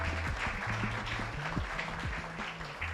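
An audience at a youth civic event applauds an honored guest, a steady wash of many hands clapping at moderate distance, with a voice speaking over it.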